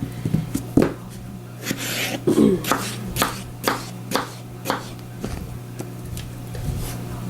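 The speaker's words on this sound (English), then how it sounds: "I've got 5 potatoes that I'm going to slice up to put in my stew" A knife slices raw potatoes for beef stew, producing a steady run of crisp chopping taps roughly twice a second, close and clear over a low constant hum.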